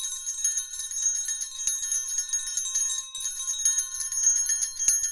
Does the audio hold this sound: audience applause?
no